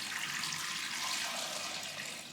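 Three cups of water pour steadily into a cooking pot for boiling sweetcorn in a home kitchen, a continuous hissing splash at moderate level that eases slightly at the end, with no talking.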